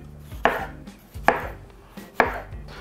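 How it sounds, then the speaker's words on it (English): A knife cuts through a fresh plum in three sharp, close chopping strikes on a board, evenly spaced, each followed by a short decay. "I'm gonna get my knife out, give this a quick cut, twist, pull that out."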